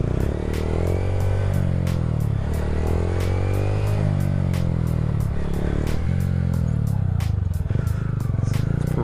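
A Honda Grom motorcycle revving hard with its clutch dumped for a wheelie, the steady engine drone rising and falling in pitch over several revs, loud and close.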